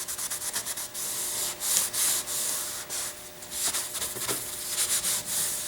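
Sandpaper rubbing back and forth over a fiberglass rocket fin, a quick rhythmic scratchy hiss repeating in short strokes, close and steady with no voices.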